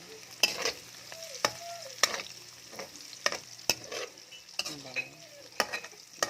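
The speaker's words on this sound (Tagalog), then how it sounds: "Lagyan natin yung bawang" Garlic sizzling in a frying pan as it is stirred, a steady close frying hiss broken by sharp scrapes and taps of the utensil against the pan, with no talking.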